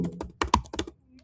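A short burst of typing on a computer keyboard, about five or six close clicky keystrokes in an uneven rhythm, then quiet.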